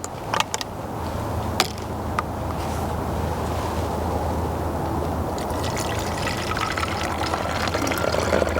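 Water and white vinegar pour into a spray bottle in a steady, continuous splashing stream, with a few faint clicks at the start.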